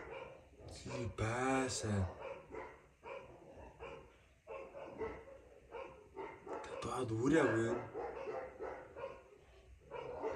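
Small dog barking in a few sharp, harmonic bursts near the start and again later, loud and close, while people talk over and between the barks.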